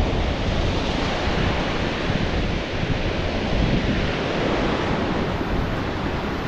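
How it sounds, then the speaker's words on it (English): Waves of an incoming tide washing onto a beach, a steady loud roar of surf mixed with wind buffeting the microphone, continuous and close with no voices. "Boy, that tide comes in fast."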